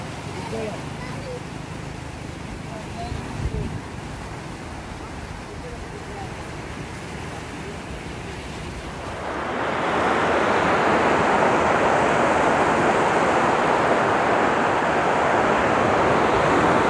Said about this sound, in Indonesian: Ini deburannya mulai kencang ya.